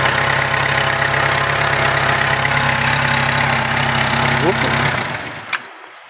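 Engine of a 2008 Daewoo Lanos 1.5 idling steadily with an even, droning hum, then shut off near the end with a short clunk before silence.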